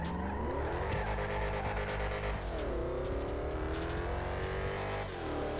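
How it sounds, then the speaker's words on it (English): A Dodge Dart accelerates hard in a GTA 5 drag race, its loud engine climbing in pitch through repeated gear shifts over tire squeal. "This Dart just seems to not really have the acceleration like it should"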